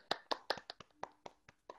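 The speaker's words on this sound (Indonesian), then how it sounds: "Tepuk tangan dulu. Ayo." Sparse hand claps from a small audience at a jazz talk, about nine distinct sharp claps in an uneven rhythm, fairly close and clear with no talking over them.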